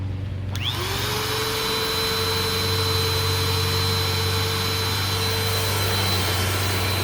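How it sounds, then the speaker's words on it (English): A 2017 Bissell Powerforce Compact Model 2112 vacuum cleaner switches on and its motor rises to a loud, steady whine with a constant hum, running close and uninterrupted. "I think the motor runs okay"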